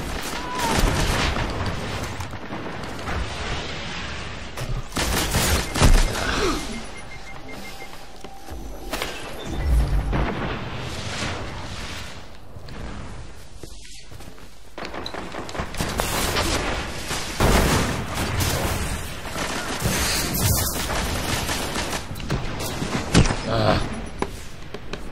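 Bursts of machine gun fire and other gunshots in the Control video game, scattered loud volleys and rapid rattles spread through a busy, noisy firefight.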